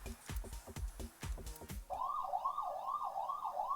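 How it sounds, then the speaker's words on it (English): A wailing siren-like alarm in the video game AI: The Somnium Files cuts in after a stretch of rhythmic musical thumps and repeats its rising and falling sweep steadily and loudly to the end. "Alarm. Did you hear that sound?"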